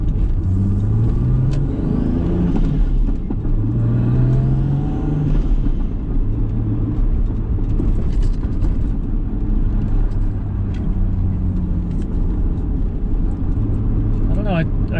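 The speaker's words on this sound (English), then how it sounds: "I was only at partial throttle with the exhaust silencer in." A Toyota Supra engine runs at partial throttle with the exhaust silencer fitted during a night drive, giving a continuous, steady low drone whose pitch shifts slightly throughout.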